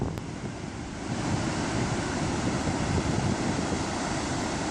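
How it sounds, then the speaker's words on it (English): Ocean surf rolls onto a sandy beach near Nelson Bay, Australia, a dense continuous wash of breaking waves with strong wind buffeting the microphone, steady and fairly close with no voices. "Beach."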